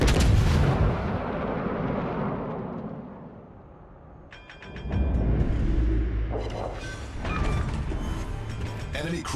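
Battleship main guns firing in the naval game World of Warships: Legends, a huge booming blast that rolls off and fades, then more gunfire crashes and impacts with game alerts and announcer voice.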